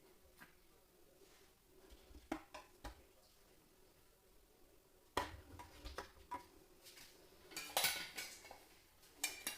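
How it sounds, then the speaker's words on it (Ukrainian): Glass canning jars clink and knock against a metal pot with a wooden rack on its bottom, a few soft taps at first, then louder clunks as jars are set down one after another. "На дно каструлі кладу дерев'яну решітку, ставлю баночки."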